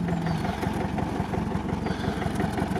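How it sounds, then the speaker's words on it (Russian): A UAZ Patriot engine idles steadily nearby with an even, rapid mechanical pulse and light clatter, running alone without talk. "ну как мотор работает"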